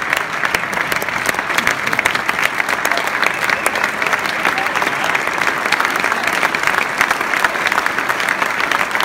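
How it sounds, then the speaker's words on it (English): A large audience applauds the 2015 Atlantic Coast Conference football legends at an honors night, a dense, continuous roar of clapping that stays loud and even throughout. "How about one more round of applause?"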